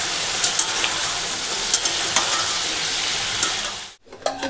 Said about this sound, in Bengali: ওই তেলের মধ্যে পালং শাকের তরকারি বসিয়ে দিয়েছি এটা একটু ভাজা ভাজা করে